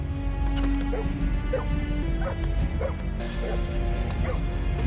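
A dog in a thriller movie gives repeated short yelps and whimpers over a constant low rumble of soundtrack noise, moderately loud and evenly spaced across the clip.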